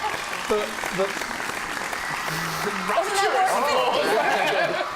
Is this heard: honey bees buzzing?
no